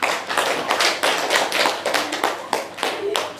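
A classroom of students claps together, giving dense, loud applause with rhythmic pulses that lasts throughout and fades slightly at the end.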